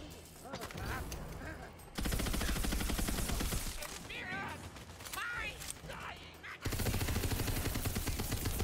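Bursts of video game gunfire from a weapon crack out in dense, loud volleys, with quieter stretches between them where a voice talks and other effects sound.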